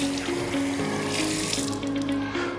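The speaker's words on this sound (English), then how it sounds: "When I wash my hands, I use less water." Tap water runs steadily into a sink during handwashing, a close, continuous splashing rush with a faint tonal whine underneath and no voices.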